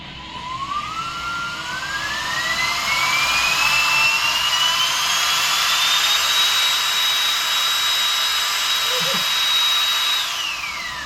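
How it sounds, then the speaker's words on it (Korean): A small Cremoa Air portable battery blower whirs loudly and steadily nearby, its pitch climbing as it spins up, holding high, then dropping at the end. "크레모아 에어 바람 소리부터 한번 듣고 시작을 해보시죠"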